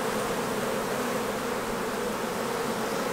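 Honey bees buzz loudly and continuously as a hive frame is shaken, a dense close drone with no voices over it.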